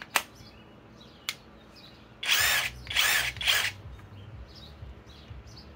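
A new SKIL mid-torque 20-volt cordless impact wrench running on a 5 amp-hour battery, firing in three short, loud hammering bursts close by, with a couple of sharp clicks beforehand and quiet handling noise between.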